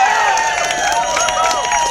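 An outdoor political rally crowd in front of a parliament building makes a steady, fairly loud murmur of voices with scattered cheers and claps throughout.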